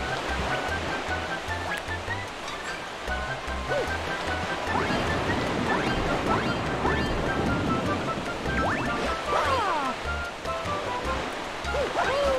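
A waterfall in Beach Bowl Galaxy of the video game Super Mario Galaxy, a steady broadband rushing roar with surf-like swells, close and continuous, overlaid by occasional game chimes and effects.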